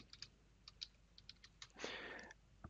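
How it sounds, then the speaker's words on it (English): Close, quiet keystrokes on a computer keyboard tap out a command in an uneven rhythm, with a short soft rustle partway through. "So we'll type in mysql underscore secure underscore installation"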